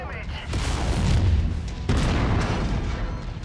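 AC-10 solid-shot autocannon fire in the MechWarrior 5 video game, heavy booming blasts that roll together into a dense, loud rumble, with a second burst kicking in partway through.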